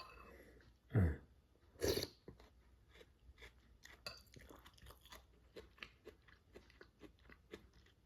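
Close, crisp crunching bites of lettuce in a pork belly bamboo stir-fry noodle dish, followed by wet chewing, with a couple of louder crunches early and softer chewing continuing in an uneven rhythm.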